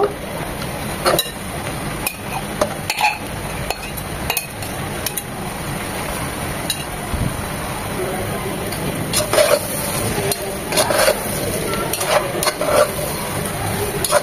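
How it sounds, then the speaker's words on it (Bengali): Chicken pieces fry in oil with swollen onions for a kala bhuna, a close crackling sizzle with repeated clattering knocks of a spatula against the pan, growing busier toward the end. "চিকেনগুলো তেলের সাথে ভেজে নেব, তাহলে তেল আর মশলা কষে যায়।"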